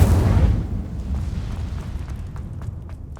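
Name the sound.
Incendio fire spell effect in Hogwarts Legacy video game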